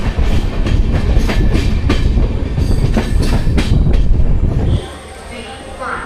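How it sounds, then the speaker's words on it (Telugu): A train rolls past on railway tracks near Palakkad Junction in Kerala, loud and steady with rhythmic clickety-clack and broadband rumble for most of the stretch, then dropping abruptly to a quieter hum near the end. "ట్రైన్ మళ్ళా క్రాస్ అవుతుంది."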